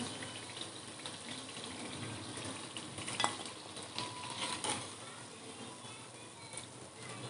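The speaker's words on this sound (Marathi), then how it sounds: "सगळे आपण समोसे अशाच पद्धतीने तळून घेणार आहोत" Roll samosas fry in hot oil with a faint, constant bubbling hiss, and a few light clinks and scrapes of a utensil rise over it.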